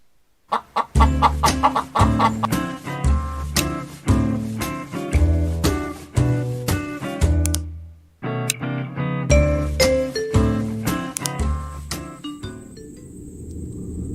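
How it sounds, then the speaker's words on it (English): Zombie chickens in the video game Clucking Hell cluck in rapid, loud bursts against musical stabs, pausing briefly midway before the clucking resumes and fades into a sustained tone. "you gotta protect these pigs from these chickens that apparently got some sort of zombie virus"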